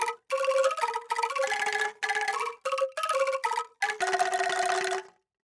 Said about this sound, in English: This Angklung comes from Soundiron.